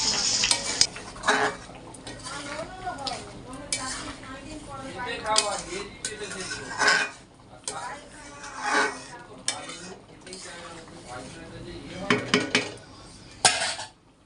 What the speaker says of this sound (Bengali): ভালোভাবে কষিয়ে কচুগুলো দিয়ে কষিয়ে পরিমাণ মতো জল দিয়ে নেব